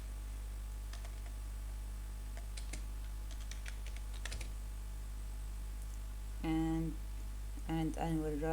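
Sparse, light clicks of typing on a computer keyboard, scattered taps over a steady low hum, with a voice briefly speaking near the end.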